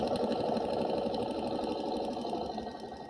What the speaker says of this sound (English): use my knee press to lower my presser foot there, line my needle beam right up on my line, and go ahead and sew